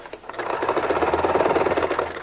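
A sewing machine stitches a batting-filled placemat seam, its needle running in a steady, fast, close chatter that rises after a brief start and holds at a loud, even pace.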